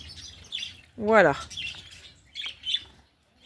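Small birds in an outdoor aviary give short, bright chirps and a brief squawky call, close by, with a person speaking briefly between them.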